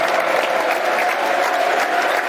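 Football crowd in the East Stand at a Millwall versus Middlesbrough match applauding a player late in the game, a steady dense wash of clapping that holds evenly throughout.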